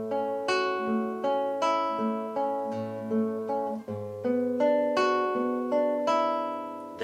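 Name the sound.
acoustic guitar playing melody of Carcassi Etude No. 3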